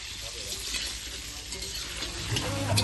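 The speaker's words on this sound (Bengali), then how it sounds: "এই যে আলু ভাজা হচ্ছে সবে" Potatoes fry in a pan at an outdoor picnic, making a continuous broad sizzle that rises slightly toward the end, heard close with faint background murmur.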